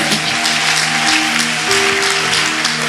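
A church congregation applauding the Lord during a French-language worship service, a dense continuous wash of clapping with sustained musical tones underneath.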